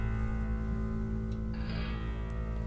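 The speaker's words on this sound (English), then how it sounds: "this is what it sounds like pitched down" A recording slowed and pitched down becomes a thick, sustained harmonic drone, steady and loud, with a brighter hissing layer entering partway through.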